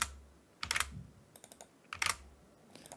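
Computer keyboard keys are tapped in two quick bursts of typing with a pause between, close and fairly quiet, followed by a few scattered single keystrokes.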